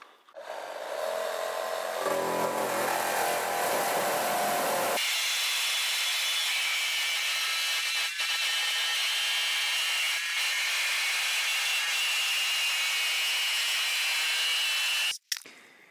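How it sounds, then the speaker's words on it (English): A jigsaw fitted with a wood-cutting blade cuts through aluminum, a loud continuous buzzing rasp that starts with a lower rough patch then settles into steady high whining cutting for about ten seconds before stopping abruptly. "And I'll cut this with a jigsaw."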